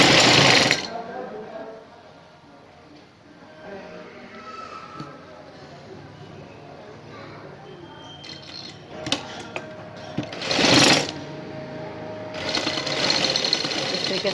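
A sewing machine stitches a half-belt, half-elastic waistband on a shalwar in a few short whirring bursts: one at the start, another near the end and a longer run to finish. Quiet handling noise fills the gaps between them.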